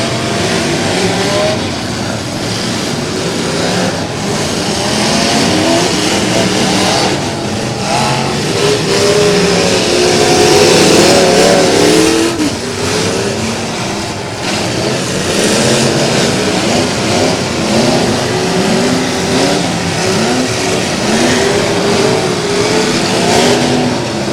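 A race car engine at a Crash Course championship night event, a loud sustained roar with rising and falling revs, mixed with crowd and arena noise throughout.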